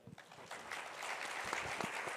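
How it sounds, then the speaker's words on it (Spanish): Applause from a conference audience at the IFCU general assembly for a panel, a soft, fairly distant wash of many hands clapping that builds slightly and holds steady. "Un fuerte aplauso, por favor, para este panel."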